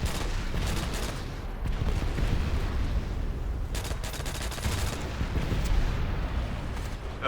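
Explosive barrels blowing up in Call of Duty: World at War Zombies on the Nacht der Untoten map, a dense, continuous roar of blasts and gunfire-like bursts rumbling loudly for several seconds with no talk.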